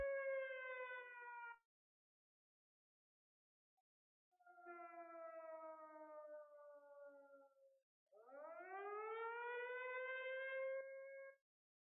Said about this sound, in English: There is no way to turn the siren off.